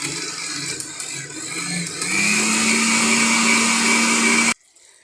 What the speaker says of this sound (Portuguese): Agora eu vou aumentar a velocidade da nossa batedeira para que as nossas claras fiquem mesmo muito bem incorporadas.